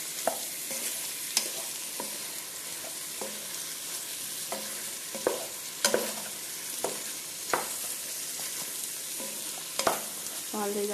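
Ginger, cumin and garlic fry in a pan, giving a steady soft sizzle broken by a few sharp scraping stir clicks and taps, with no voices.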